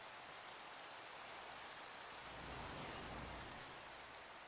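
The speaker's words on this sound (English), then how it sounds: "it's definitely raining on HermitCraft" Steady rain falls in the Minecraft world, a soft continuous hiss of drops with a faint low rumble swelling briefly in the middle, no voices over it.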